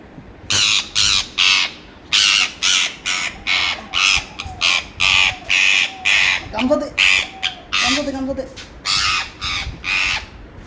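A parakeet squawks loudly and harshly over and over in rapid, closely spaced bursts as it is being caught, up close with hardly a pause between calls.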